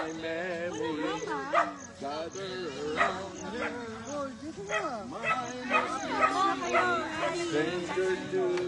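A dog yips and barks now and then, mixed in with overlapping chatter from several people talking nearby.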